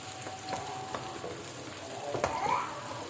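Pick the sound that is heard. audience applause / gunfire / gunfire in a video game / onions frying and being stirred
onions frying and being stirred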